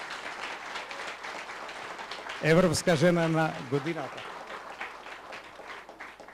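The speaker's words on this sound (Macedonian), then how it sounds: "Еден аплауз за Ана Витанова." A crowd claps for Ana Vitanova, named European woman of the year, at a folklore book launch in Strumica. A voice speaks clearly over a diffuse wash of applause that continues around his words.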